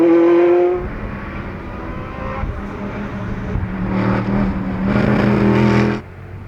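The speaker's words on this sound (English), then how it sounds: "So he'll now go in pursuit of Mr. Buckler in his Porsche, and he is fighting that car" A Porsche race car on a small circuit at a vintage sports prototype race, its engine roaring and climbing through revs as it accelerates past, loud and close before easing off.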